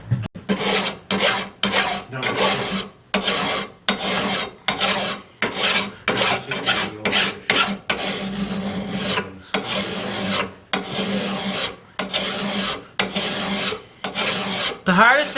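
Hand file rasping across a forged steel carving chisel in long, steady rhythmic strokes with brief pauses between each pass, close and fairly loud, with no talking.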